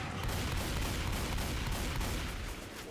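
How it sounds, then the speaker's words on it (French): Dense, sustained gunfire fills a Left 4 Dead 2 match, with a pump shotgun in play; loud overlapping blasts roll on for about three seconds with no clear gaps, fading slightly at the end. "Voilà, le fusil à pompe"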